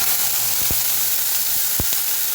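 Water poured into hot caramel for a plum cake sizzles steadily in the pan, a constant hissing with a few sharp clicks and pops breaking through.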